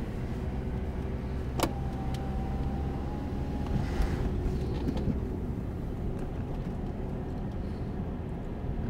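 A learner driver's car accelerating on a road during a driving lesson, a steady low engine hum heard from inside the cabin with a brief click near the start, no talking.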